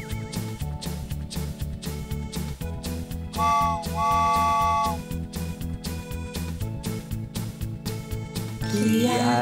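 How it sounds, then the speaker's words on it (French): A cartoon locomotive whistle sounds in two bright held tones over a bouncy children's song with rhythmic chugging beat, the whistle rising clearly above the music mid-way before the tune continues. "Quel est ce sifflement si proche?"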